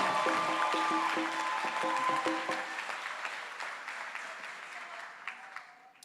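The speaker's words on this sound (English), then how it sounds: "Give yourself a round of applause." Applause from a graduation audience at a Kente ceremony fills the room, starting dense and loud, then gradually thinning and fading toward the end, with some tonal sound over it early on.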